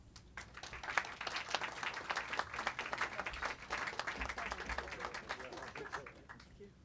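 A bookstore audience applauds steadily to welcome a guest author, dense clapping that holds throughout and tapers near the end, fairly distant in the room.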